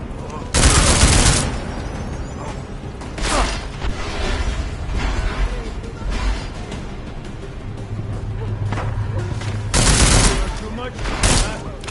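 Gunfire in Deus Ex: Mankind Divided comes in several loud, sharp bursts with gaps between them, set over a steady game backdrop and some mechanical clanks.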